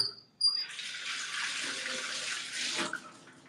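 Purged water from a home espresso machine's drip tray poured out into a sink, a sharp clink followed by a steady, close splashing pour lasting about two and a half seconds before tapering off.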